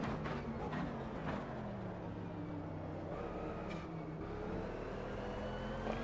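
Race car in the game Automobilista 2 accelerating, its engine note climbing and shifting in a steady, loud drone through gear changes, with other cars faintly audible around it.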